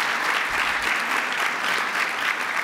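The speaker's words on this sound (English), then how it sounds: "please let's give another round of applause" An audience at the Third Annual Cure Corridor Event applauds, a loud, dense, sustained clapping from a room full of people, steady throughout with no pause.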